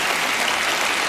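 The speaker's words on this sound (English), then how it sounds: "I think Penn's parents deserve a round of applause" An audience claps for a magician's act on a TV magic show stage, a dense, steady burst of applause that stays loud and even throughout.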